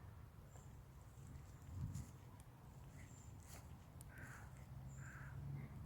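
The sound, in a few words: crows cawing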